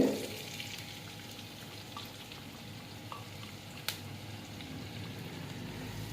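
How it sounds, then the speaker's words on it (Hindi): Chopped onions dropped into a pan of golden garlic fry with a steady, soft sizzle, a brief louder burst at the start and a single sharp tick midway, no voices. "लहसुन के ऊपर जब इस तरह से गोल्डन कलर आ जाए तब आपने जाके इसके अंदर प्याज ऐड करने हैं।"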